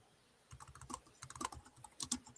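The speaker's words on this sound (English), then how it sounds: "I'm just typing it out for chat." Rapid clicking keystrokes on a computer keyboard, heard close and faint in quick irregular bursts for about two seconds, with no voices.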